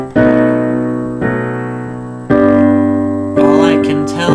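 Piano chords from a song, four sustained chords struck one after another and left ringing, close and clear with no talking.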